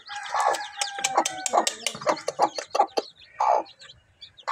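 Chickens cluck in a steady stream of short, repeated calls, with a brief crow-like call mixed in, close and fairly loud at a small coop where a mother hen is kept with chicks.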